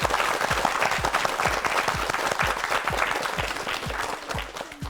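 Studio audience applause on a Korean TV word quiz show, a sustained burst of clapping with a rhythmic musical beat pulsing underneath, fading slightly at the end.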